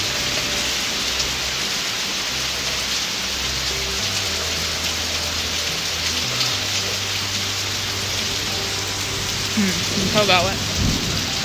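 Steady rain falls on a surface with low rumbling thunder rolling underneath, and a brief brighter burst near the end; a voice speaks briefly.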